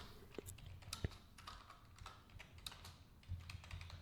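Fast, uneven keyboard typing on a computer while setting up a table in a note-taking app, with light clicky keystrokes in quick bursts, close and fairly quiet, with no talking.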